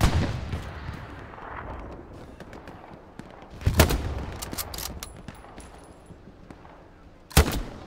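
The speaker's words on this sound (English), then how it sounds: "AT guns is shooting at us" Anti-tank gun shots in the World War II shooter Hell Let Loose, with two loud, sharp blasts about four seconds apart over a background of scattered distant gunfire and battlefield noise.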